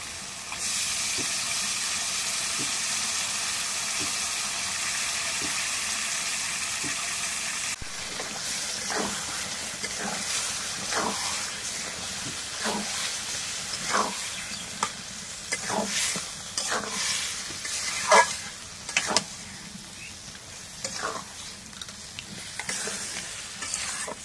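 Beef pieces sizzle and hiss as they are stirred through spices in a pan, steady frying with repeated scraping strokes that grow busier toward the end, close and without speech.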